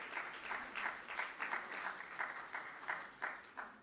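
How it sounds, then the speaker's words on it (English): Audience applause at a children's award ceremony: faint, rhythmic clapping in regular synchronized beats, steady and slightly distant throughout. "A big round of applause for her and the initiative itself."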